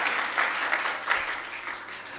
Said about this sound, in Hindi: अरे ताली बजाओ अरविंद के लिए